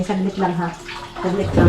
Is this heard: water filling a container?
yes